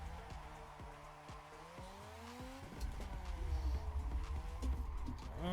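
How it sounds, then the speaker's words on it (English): Car spinning a drifting donut in Assetto Corsa: a steady engine drone with a wavering, high-pitched tire squeal that rises and falls, growing louder and rougher as the spin continues. "Oh look, I'm gonna do a donut right here."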